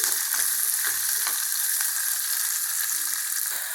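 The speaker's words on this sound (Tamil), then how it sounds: "இப்போ சோம்பு போட்டுடலாம். வெங்காயமும் போட்டுடலாம். இது நல்லா வதங்கட்டுங்க." Fennel seeds and onions fry in a pan for a Tamil cowpea and potato gravy, giving a steady, fairly loud sizzle with occasional soft clicks of a spoon, heard alone without any talking.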